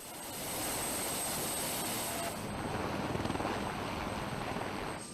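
Bell UH-1Y Venom twin-engine medium utility helicopter, the US Marine Corps Super Huey, heard as a loud steady turbine whine with rotor roar that takes on a faint rhythmic beating in the later seconds.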